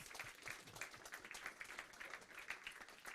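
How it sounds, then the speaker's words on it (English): Audience applause at a hackathon showcase, a steady wash of many hands clapping at moderate level for about three seconds, fairly even with small swells and no voices standing out. "Another round of applause for Awaken Ambience."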